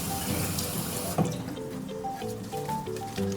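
Pandan leaves being washed under a running kitchen tap, a steady rush of water splashing into the sink that thins into lighter trickling and dripping, close and alone.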